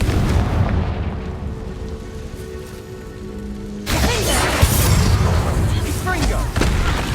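A Confringo fire-blast spell from Hogwarts Legacy erupts as a loud, close explosion with a rumbling boom that holds steady over several seconds, while a voice speaks over part of it.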